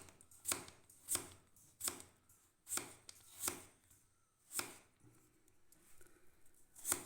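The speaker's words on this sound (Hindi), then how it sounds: "पोटाटो को आपने ऐसे काटना है" A knife chops peeled potatoes finely on a board in sharp, separate strokes, about ten cuts at an uneven pace, close and fairly quiet.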